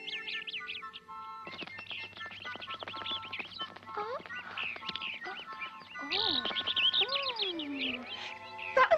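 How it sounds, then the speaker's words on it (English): Small birds chirp and trill in a forest, with busy overlapping tweets and quick whistled calls. The calls come near and fairly loud, broken by a brief pause, then a burst of sweeping warbles. "Good morning, little birds."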